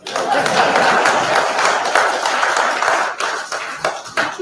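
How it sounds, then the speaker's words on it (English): Audience members at a college football coach's introductory press conference clap in a short, fairly loud burst that thins out toward the end, with some talk mixed in. "please clap"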